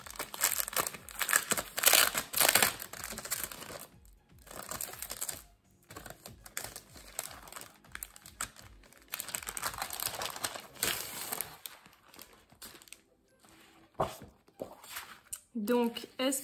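A scrapbooking mail package is opened by hand, its plastic wrapping crinkling and rustling in bursts, with someone talking over the handling.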